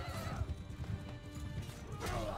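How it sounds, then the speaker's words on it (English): Horses in Mount and Blade II: Bannerlord neigh and whinny over busy hoofbeats amid battle noise, a shrill whinny rising near the end, fairly close and steady with no clear talk. "Oh dear, my horse is dead."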